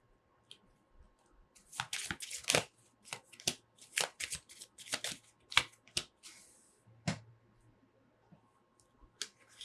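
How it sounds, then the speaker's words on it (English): Tarot cards are picked from a deck and laid face down on a table, giving a run of crisp, close card flicks and taps in irregular bursts with short pauses, and no voice. "I pick 3 cards and I lay them out face down"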